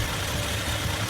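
Electric hair clippers buzz in a steady, continuous low drone throughout, close and fairly loud with no voices over it.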